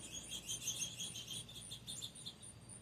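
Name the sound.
birds fussing at feeder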